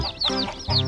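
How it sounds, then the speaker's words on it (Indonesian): Two rainbow chickens give short, close clucks, two brief throaty calls about half a second apart, with no talking. "Lihat itu, 2 ekor ayam rainbow."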